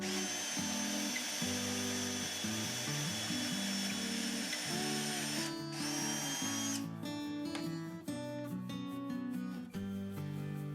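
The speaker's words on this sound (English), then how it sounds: "So I drilled the pocket holes in the stretchers between the leg assemblies." A power drill runs steadily for nearly eleven seconds while boring pocket holes in the wooden stretchers of a farmhouse-style desk, a loud close whine with shifting pitch as the bit bites, no voices present.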